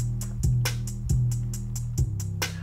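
Drums rebuilt for an AI-generated fake song imitating a singer: a steady, close beat of punchy kick and snare hits with crisp cymbal or hi-hat ticks, playing alone.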